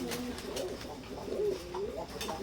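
Imported-bloodline teddy pigeons, a pair, coo steadily in repeated low, throaty calls close by, with no talking.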